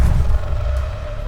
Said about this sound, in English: and you see an explosion.